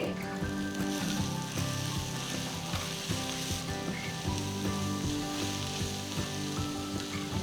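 Onions with salt, chilli powder and coriander powder sizzle in a pan for gongura chicken curry while being stirred, a busy close crackle with scraping strokes throughout.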